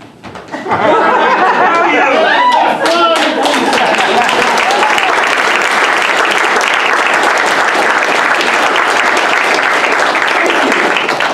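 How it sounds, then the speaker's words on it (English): An improv comedy audience erupts into loud applause mixed with chatter and laughter, clapping swelling in quickly and staying dense and close for several seconds. "Give them another round of applause."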